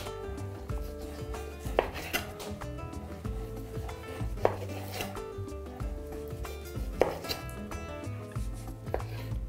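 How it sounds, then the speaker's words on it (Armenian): Knife slicing pork fat into thin strips on a board, a steady run of soft cutting taps with a few sharper knocks, close and fairly quiet, with no talking. "Այսպես բարակ շերտերի ենք կտրատում և գցում ենք տաքացող կաթսայի մեջ։"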